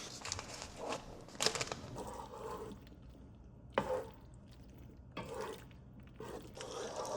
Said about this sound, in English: All right, so the macaroni is done cooking. I'm going to strain it now.